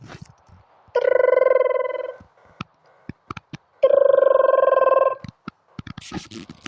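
A telephone ringing during a call: two long, steady electronic rings separated by a pause, with scattered small clicks around them.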